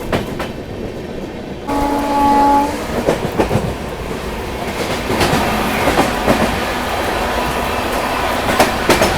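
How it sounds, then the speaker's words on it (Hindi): An Indian Railways train, the Bhopal Express near Nizamuddin, is heard from another moving train: a loud, continuous rumble with clickety-clack of wheels over rail joints, a brief horn-like tone early on, and repeated clattering bursts, without talk. "और ये है भोपाल एक्सप्रेस, आउटर सेगमेंट पे है निजामुद्दीन के स्टैंड पे।"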